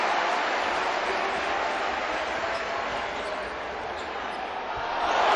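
Loud basketball arena crowd roaring during a game, a dense, sustained wall of noise that swells slightly toward the end, with no single voice standing out.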